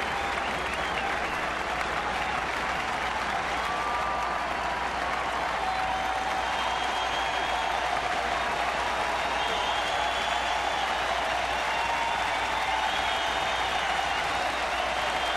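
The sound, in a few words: baseball fans cheering a strikeout at Kauffman Stadium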